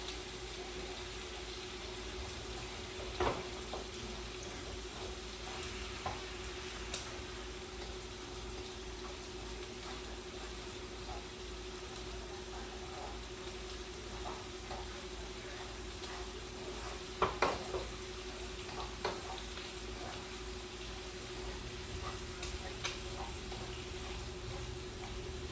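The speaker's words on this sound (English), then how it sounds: "Our ground beef is beating with water." Ground beef cooks with water in a pan, a low continuous simmering sizzle and bubbling running steadily for a long stretch, with occasional soft clinks and stirring knocks, quiet and close with no talking.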